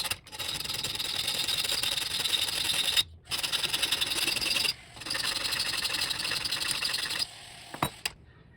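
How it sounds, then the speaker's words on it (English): A hand file rasps steadily against a Savage Ultralite rifle stock being fitted for a Timney trigger, close and loud in long scraping runs broken by short pauses, ending with a few light knocks. "We're gonna do a hair more filing, get this down just a bit more"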